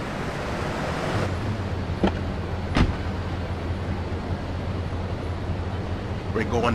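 A car drives through the streets of Hepburn Heights in the video game GTA III, giving a steady engine and road drone with a couple of short sharp clicks or knocks along the way.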